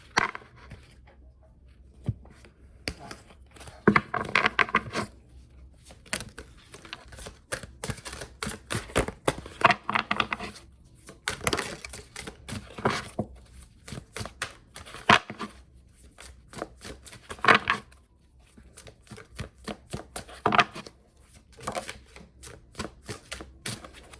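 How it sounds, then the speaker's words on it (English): Tarot cards being shuffled during a reading, heard as repeated bursts of riffling and papery slapping with short pauses between them, close and fairly quiet, with no talking. "I'm shuffling cards"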